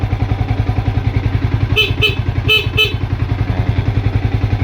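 Four short, loud honks from the horn of a 2015 Yamaha Vixion motorcycle, in two pairs, sounding over the steady, rhythmic putter of its idling engine.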